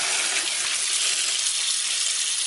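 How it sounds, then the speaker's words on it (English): Water from a kitchen sink tap pouring into a pressure cooker, a steady hissing gush that runs unbroken and close for the whole stretch. "we're just going to take this over to the sink and fill it up with water"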